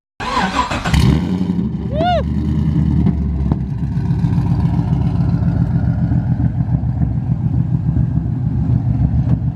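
A Nissan 350Z cranks and fires up, then settles into a loud, steady, throbbing engine run close by. A voice briefly rises over the start-up.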